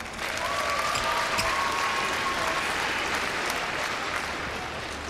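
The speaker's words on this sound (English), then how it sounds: "Expect a big cheer for the Danes here." A large arena crowd at the 2011 badminton world championships quarter-final applauds and cheers for the Danish doubles pair, a dense, steady roar of clapping filling the space with a faint whistle, no commentary over it.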